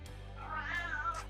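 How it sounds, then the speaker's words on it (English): A house cat lets out a single drawn-out meow, fairly close and soft, rising and then trailing off over a low steady hum of reef tank equipment. "Oh, here's my cat, Lou."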